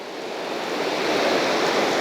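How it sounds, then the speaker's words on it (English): A small waterfall trickles down a cliff face in the Flinders Ranges, making a steady, even rush of falling water that swells slightly and holds without breaks or voices. "That would be considered another waterfall, albeit very, very small compared to its buddy over here."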